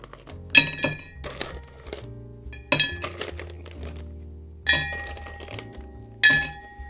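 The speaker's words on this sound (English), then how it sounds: "So we'll put a couple ice cubes." Ice cubes drop into a glass cocktail mixing glass, making several sharp, bright clinks and knocks spaced a second or two apart, with lighter rattling between them, close up and without speech.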